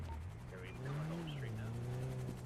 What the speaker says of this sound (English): I can hear a chopper again.